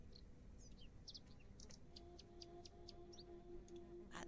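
Birds chirping in the video game The Excavation of Hobs Barrow, a series of short, bright tweets in an irregular rhythm over a quiet ambient bed with a faint steady tone.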